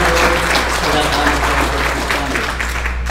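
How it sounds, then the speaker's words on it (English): Steady, dense applause from an audience honoring a school board at a conference, filling the whole stretch at an even, fairly loud level. "Let's give a round of applause to our school board for that honor."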